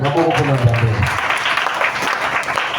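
A church congregation bursts into loud applause for the Lord, dense close clapping that holds steady throughout, with raised voices mixed in at the start.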